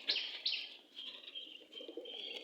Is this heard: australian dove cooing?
yes